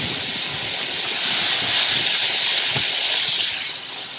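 Beef sizzling and caramelising on a barbecue hotplate outdoors, a loud continuous broad hiss heard close up, swelling slightly and then easing, with no talking.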